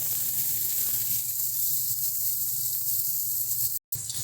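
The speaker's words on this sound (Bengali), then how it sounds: "বেগুনটাকেও কিন্তু ভালো করে ভেজে যতক্ষণ বেগুনটা একটু হালকা নরম হবে ততক্ষণ কিন্তু বেগুনটাকেও আমরা ভেজে নেব" Eggplant frying in oil for a fish-head curry produces a steady, close hiss of sizzling that continues evenly and cuts out abruptly for a moment near the end.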